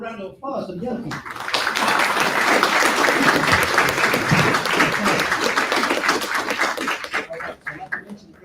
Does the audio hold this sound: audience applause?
yes